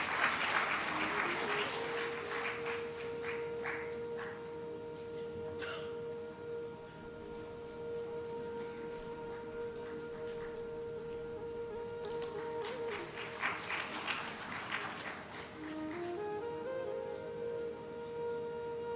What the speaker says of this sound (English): I expect a big round of applause.